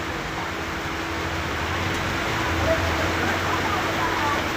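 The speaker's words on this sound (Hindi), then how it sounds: "कितना ज़्यादा बारिश हो रहा है" Continuous hiss of heavy rain pouring down, steady and dense throughout, with a faint low hum underneath.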